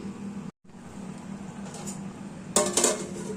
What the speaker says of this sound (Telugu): ఇప్పుడు దీనిపైన మూత పెట్టుకుని ఒక 15 మినిట్స్ వరకు మీడియం ఫ్లేమ్లో కుక్ చేసుకోవాలి.